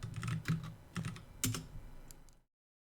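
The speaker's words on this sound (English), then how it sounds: "Typing in this computer code is going to be exciting." Keys clatter on a computer keyboard as code is typed, a close, moderately loud run of clustered keystrokes in uneven bursts that stops abruptly before silence.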